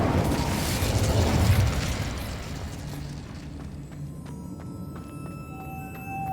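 The Incendio fire spell from the game Hogwarts Legacy erupts in a loud, rushing burst of flame that roars for a few seconds, then fades into quieter game ambience with faint tonal chimes.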